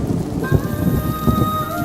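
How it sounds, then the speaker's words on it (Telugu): Steady rain falls throughout, a dense even patter with a few louder drops, heard alone with no voices. "ఈ వర్షం ఏమో తగ్గిలా లేదు."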